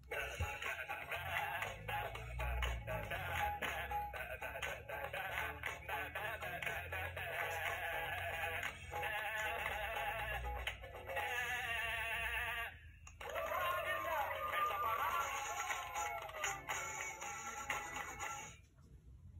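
A sheep bleats over a steady musical backing, the calls repeating through a children's song, loud and close with a brief pause near the end.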